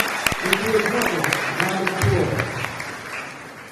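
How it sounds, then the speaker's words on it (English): Applause from a graduation ceremony audience honoring charter school graduates, a broad wash of clapping heard under and between a speaker's talk, moderately loud and fairly close. "Round of applause for them."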